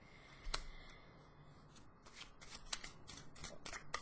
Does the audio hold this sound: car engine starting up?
no